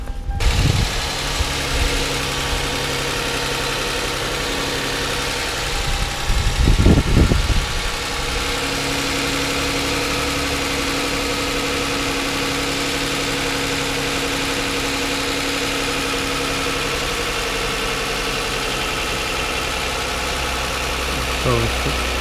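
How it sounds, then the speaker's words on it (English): A 2007 Toyota car engine idles steadily and close, a constant low hum with a brief swell of revving early on, running alone for most of the stretch. "let's start the car and see if we can hear any vacuum leaks"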